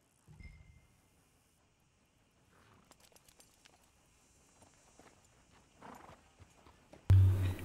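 Hooves clip-clop faintly on the ground in a Western video game, with a short horse snort or whinny near the start and a louder burst at the end.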